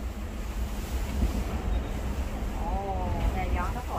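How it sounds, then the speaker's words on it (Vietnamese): Strong wind blowing outdoors on a rainy day in France, a constant rough roar buffeting the microphone. A faint voice rises briefly near the end. "Gió mạnh quá hả?"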